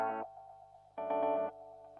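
Guitar played through a Fractal FX8 multi delay set to quad tap, two bright strummed bursts with repeating echo taps sustaining faintly between them, loud and close, no voices.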